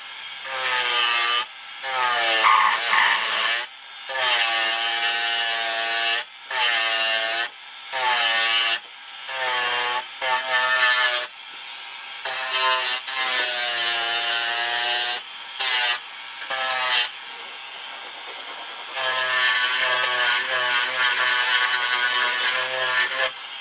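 A power tool sands down the wooden form of a Kwik-fli Mk III model aircraft, a loud, buzzing grind running in repeated bursts with short pauses between passes, and no speech over it.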